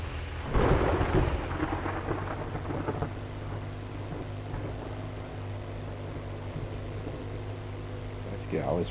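Rumbling thunder and steady rain in a survival video game, a loud thunderclap early on fading into a continuous wash of rainfall with low droning ambience throughout.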